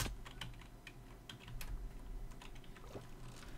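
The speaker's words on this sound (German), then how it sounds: "Meine Tastatur können wir auch hören" Computer keyboard typing during a Minecraft parkour map session, a quiet run of irregular clicks and taps under low steady background noise.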